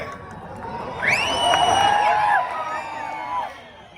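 A huge crowd at a bullock cart race roars, with whoops and whistles swelling to a loud peak midway, then easing off, as voices mingle through the din.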